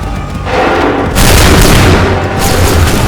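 Massed musket volleys from a line of soldiers in Assassin's Creed 3 roar out in loud, dense booming bursts, with a fresh crashing wave of gunfire arriving roughly every second, filling the space with rumbling echoes.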